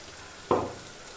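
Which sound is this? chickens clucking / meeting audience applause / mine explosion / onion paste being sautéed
onion paste being sautéed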